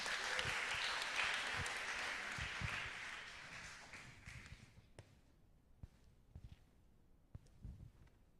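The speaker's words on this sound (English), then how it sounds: "Round of applause for them" Audience applause at a launch event, a dense wash of many hands clapping for the first half, then fading to a few scattered claps and taps.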